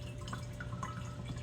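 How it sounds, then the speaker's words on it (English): Water solution from a PropBox cloner sprays onto plant stems, giving a steady, close, low hiss and patter with faint drips throughout, and no voices. "it's spraying the cloning solution, the water solution"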